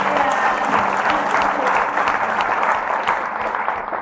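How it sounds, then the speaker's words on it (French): A church congregation applauds the worship team after a service of praise, thick continuous clapping with crowd murmur and a few voices mixed in, loud and sustained. "Give them a hand."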